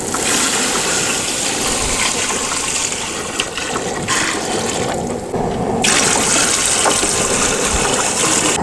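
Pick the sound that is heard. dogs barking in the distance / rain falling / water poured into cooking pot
water poured into cooking pot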